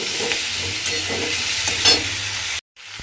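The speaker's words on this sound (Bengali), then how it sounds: "এইবারে এই মশলাগুলো সব সবজিগুলোর সঙ্গে ভালোভাবে মিশিয়ে আবারও কিন্তু একটু ভাজা ভাজা করে নিতে হবে" Chopped onion-stalk vegetables sizzle steadily in a hot pan with chilli powder, turmeric and salt, while a spoon scrapes and stirs them in soft repeated strokes; the frying cuts out abruptly near the end, then resumes faintly.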